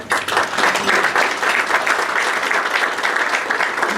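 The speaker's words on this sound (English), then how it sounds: "just to give her a round of applause" Rotary club members at a Waco meeting break into loud, close, sustained applause for a member, many hands clapping in a dense, even roar.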